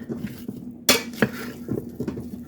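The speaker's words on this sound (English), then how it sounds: "I'm trying to get it stirred up a little bit" A spoon stirs food in a cooking pot, scraping and clinking against the pot in a loose rhythm, with one sharper knock partway through, close and without talk.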